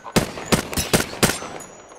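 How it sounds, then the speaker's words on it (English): Video game gunfire, five loud sharp shots in a quick uneven burst over about a second, with no voice. "Opening fire on the enemy."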